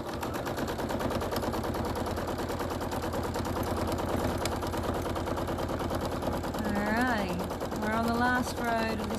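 Sewing machine stitching a quilt, a rapid steady mechanical rattle that runs throughout at moderate level, with a voice speaking over it near the end.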